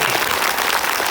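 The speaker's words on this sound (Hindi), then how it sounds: "जोर से ताली बजा प्रभु के लिए।" A church congregation at a Hindi-language worship service claps loudly for the Lord, a dense, continuous wash of many hands applauding together up close, with no voices standing out.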